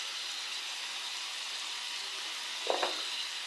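Chicken curry masala with turmeric sizzles steadily in a pan, a soft even hiss with a couple of brief stirring scrapes near the end, heard close and alone.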